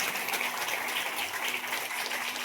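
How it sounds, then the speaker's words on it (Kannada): An audience at a church ministry gathering in Bidar claps together in a dense, continuous wash of applause, held steady at moderate volume with no speech. "ಚಪ್ಪಾಳೆ ತಡಿಬೇಕು ಜೋರಾಗಿ."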